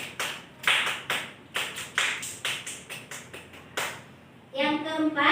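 A Pramuka scout hand-clap pattern: a dozen or so crisp, close claps in an uneven rhythm, then a voice begins speaking at the end.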